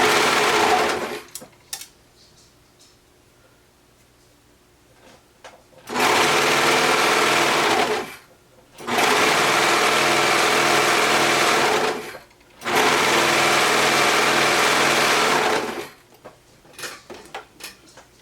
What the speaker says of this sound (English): with my serger. And I always start at the V and serge all the way around.